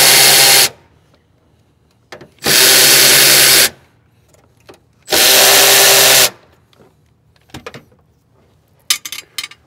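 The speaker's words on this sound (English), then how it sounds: "we're going to need an 8 millimeter socket. We're going to take all these nuts loose" A power tool spins fuel system nuts loose with an 8 mm socket on a Subaru STI, three loud whirring bursts of about a second each separated by quiet pauses and small clicks.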